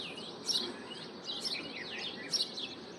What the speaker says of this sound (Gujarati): જો કેવો મસ્ત મજાનો એ પક્ષીનો અવાજ આવતો હોય